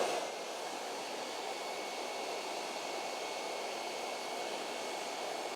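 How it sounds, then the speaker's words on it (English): A hairdryer on warm heat blows steadily over a waterproof Gore-Tex patch, a constant close whooshing hiss with no break and no talking. "So you're gonna take your hairdryer, you're gonna turn it onto a warm heat, and you're gonna turn it on."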